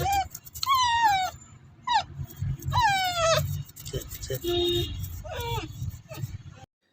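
A puppy under three months old whimpering and whining in repeated high, falling cries, close and fairly loud, with a person talking in between.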